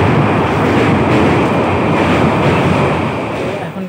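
A passenger train pulls away from Jangipur Road station, heard from on board as a steady, loud broadband rumble and rush of wheels and wind with no voices, easing off slightly near the end.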